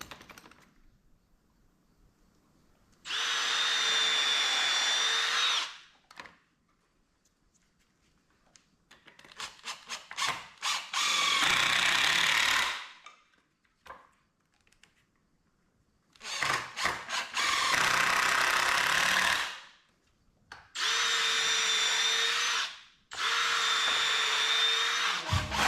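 A power drill drives screws into wooden wheel cribs in several loud, close bursts of a few seconds each, separated by quieter handling knocks and rustles.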